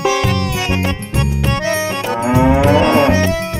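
A buffalo lowing in a comedy scene, a loud, deep, drawn-out moo that rises and falls in several long calls, close and alone without speech.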